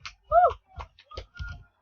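A handful of quick, sharp claps or snaps ring out in a Roblox obby after a player dies, coming in a loose uneven burst over a couple of seconds with a brief voice-like tone mixed in.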